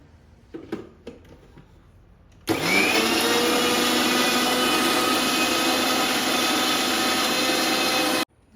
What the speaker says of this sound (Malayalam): ഇനിയും ഇത് മിക്സിയുടെ ജാറ് വെച്ച് ഇത് അരയ്ക്കുന്നു